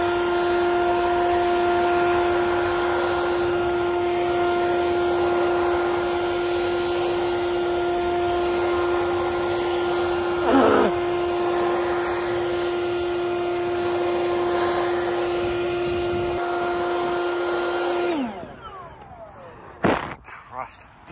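A vacuum cleaner runs in a workshop, sucking up dust and dirt with a loud, steady whine that holds for most of the time, then winds down, followed by a few knocks and clatter.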